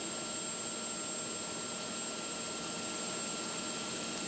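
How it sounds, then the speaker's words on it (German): A CH-53 military transport helicopter flies on a tactical airlift mission, a steady, unbroken turbine whine and rotor drone at even loudness with a high tonal hum and no voices. "Mit dieser CH-53 überfliegt zum ersten Mal ein deutscher Hubschrauber im Rahmen einer taktischen Luftlandung die Grenze zum Kosovo."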